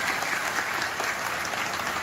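A large audience at a mushaira poetry gathering in Maharashtra claps continuously, producing a dense, even roar of applause with no pause.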